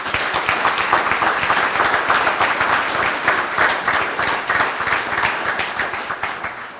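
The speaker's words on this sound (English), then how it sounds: "Please join me in giving one more round of applause for these outstanding Waco ISD students." A crowd gives a sustained round of applause at a Waco ISD Board of Trustees meeting honoring students. The clapping is loud, dense and steady from start to finish, with no voices over it.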